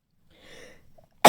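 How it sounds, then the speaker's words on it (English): A single close, soft human sneeze, a short breathy burst that is followed at once by a sharp loud noise at the very end. "That was a great sneeze."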